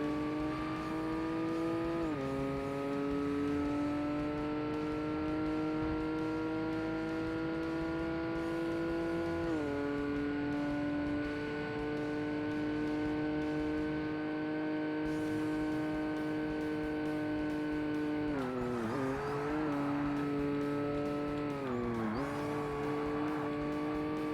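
A race car in the Forza Motorsport video game roars continuously downhill, its engine note climbing and dropping with several gear shifts, with tire noise underneath and no talking.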